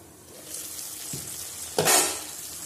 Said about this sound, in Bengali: বেগুনটা একটু কষানো হওয়ার জন্য ঢেকে দিচ্ছি